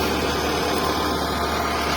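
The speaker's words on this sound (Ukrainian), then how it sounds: "головним учасником цієї операції є наш старенький трактор" An old tractor engine idles steadily outdoors on a farm field, a continuous broadband chug with no breaks, moderately loud and with nobody talking.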